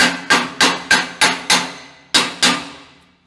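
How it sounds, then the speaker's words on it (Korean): A slag hammer chips slag off freshly welded steel plate held in pliers, giving eight sharp metallic strikes in a steady rhythm with a brief pause before the last two, each ringing and decaying quickly, close and alone. "슬래그 망치로 모재"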